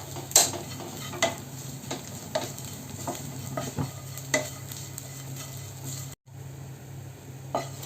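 Dried shrimp sizzles steadily in a hot pan while a spatula scrapes and stirs at intervals, close up.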